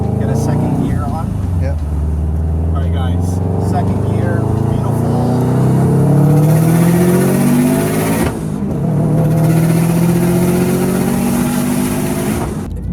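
Subaru WRX hatchback accelerating hard in second gear, engine note climbing in pitch through two rising pulls with a brief dip between them, loud and close from inside the car.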